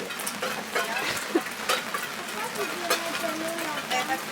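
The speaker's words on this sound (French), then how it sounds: "C'est vraiment pluvieux." Rain falling on a tent at a campsite on a wet day, a dense steady patter of drops close around, with scattered louder taps and people talking quietly inside.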